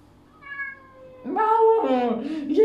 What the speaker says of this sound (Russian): Ну вот что за кошка такая?